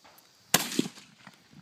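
A single sharp crack from a .22 rifle fired at an indoor-outdoor shooting range, loud and close, followed by a short fading ring and faint background movement.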